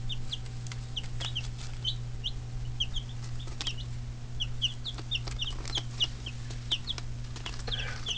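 Newly hatched chicks peep in repeated high chirps over the steady low hum of a homemade incubator, with occasional soft clucks from chickens nearby.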